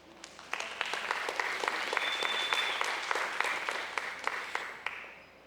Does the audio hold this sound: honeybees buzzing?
no